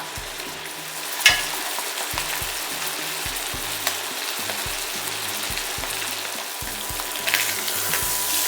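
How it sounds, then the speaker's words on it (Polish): Steady sizzling and crackling of chicken breasts frying in butter in a pan, continuous and close, with a brief clatter of utensils near the start. "łyżkę masła i obsmażam na niej kurczaka z dwóch stron"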